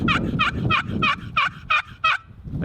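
Turkey yelps made on a box call, a quick series of about eight raspy two-note calls in steady rhythm, loud and close with no talk.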